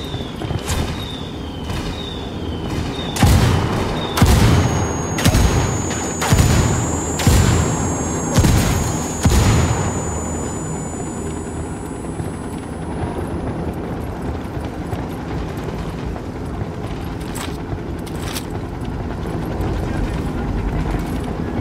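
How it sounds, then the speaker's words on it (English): Indirect artillery fire in the video game Ghost Recon: a run of heavy booming blasts over roughly ten seconds, then a lower rumbling aftermath with scattered distant thuds. "calling for indirect fire"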